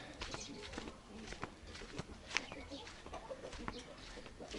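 Chickens and a rooster cluck and call around a farmyard, with scattered footsteps and shuffling nearby and some voices in the background. The sound stays at a moderate, busy level throughout.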